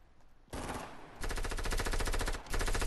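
Automatic gunfire in the video game Fortnite, rapid loud bursts starting abruptly, with a brief pause before another burst.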